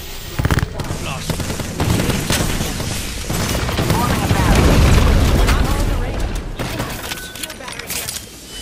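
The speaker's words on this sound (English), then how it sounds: "Grenade." A grenade explodes in the video game Apex Legends as a deep, rumbling boom that swells over several seconds, mixed with sharp crackling bursts and other game noise.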